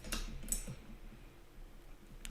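Typing on a keyboard fitted with new keycaps, a short run of quick, close keystrokes with a brighter cluster of clicks near the start, heard alone with no talking.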